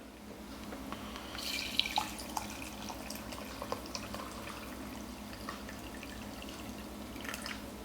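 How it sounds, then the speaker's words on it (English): Hot water is poured into a Croatian MRE beef noodle soup with a crumbly beef stock cube, giving a steady, close liquid stream with small splashes and drips for several seconds. "So let's blast some hot water in that."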